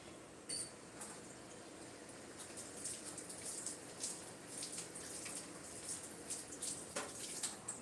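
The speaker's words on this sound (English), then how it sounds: "2/3 cup of water." Water pours steadily into a measuring cup or pot while cooking in a home kitchen, a soft continuous splashing trickle heard close up with no talking.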